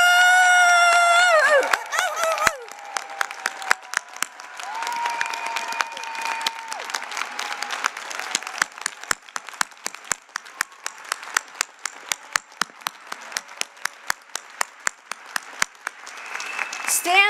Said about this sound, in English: Stand so we can really applaud you now.